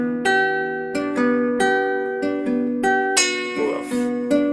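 A fingerpicked acoustic guitar plays the beginner pattern from a song: plucked notes ring out in a steady, repeating rhythm, close and clear, with no talking.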